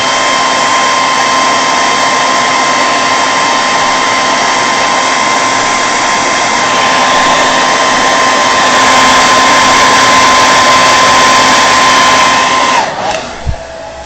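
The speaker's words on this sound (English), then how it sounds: "I'm going to use my hair dryer real fast" A hair dryer drying a watercolor painting blows steadily at close range with a constant whirring hum, then cuts off near the end, leaving a couple of small knocks.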